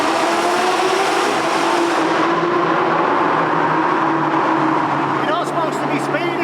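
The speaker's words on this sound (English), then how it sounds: "It's just this car's so loud." Supercar engine drones loudly and steadily at cruising speed, heard from inside the car, with a broad rumble throughout and the pitch easing partway.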